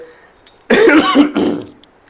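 Two harsh coughs, close and loud, one after another, followed by a brief quiet.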